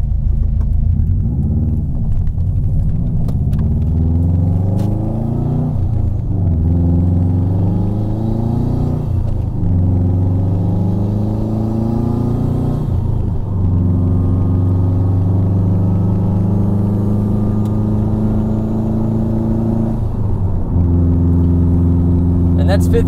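Cabin of a JDM V7 Subaru WRX STI with a 6-speed manual, cruising in fifth gear around 45 mph at about 2,700 rpm: a steady, loud low engine drone with shifting harmonics runs throughout, with someone talking over it.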